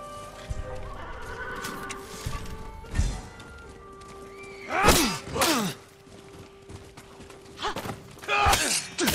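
Horses at a stable in the Ghost of Tsushima video game, with loud close whinnies and neighs breaking out twice amid shuffling hooves, thuds and scattered clip-clop.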